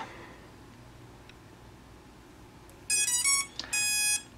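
A Simtoo Moment AirSelfie 4K folding drone powers on with two loud electronic beep bursts near the end, after a quiet stretch with faint ticking and a soft sensor buzz underneath.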